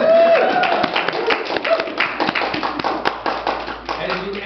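Wedding guests clap after a couple is pronounced husband and wife, a close burst of scattered handclaps with sharp individual slaps that gradually thins out.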